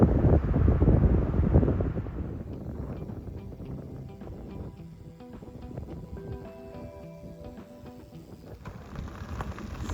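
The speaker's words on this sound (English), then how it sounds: "It's a windy day" Strong wind buffets the microphone on a windy day near a wind farm, loud rumbling gusts at first that ease into a steadier, softer blowing with faint rattles underneath.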